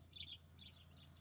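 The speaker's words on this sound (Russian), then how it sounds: "птички свищут, как будто бы весна скоро" Small birds chirp faintly in a snowy January winter, three short high twitters over a low steady background hum.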